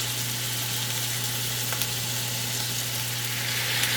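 Meat searing in a hot pan with butter and rosemary gives a steady, close, even sizzle with a faint low hum underneath and no talking.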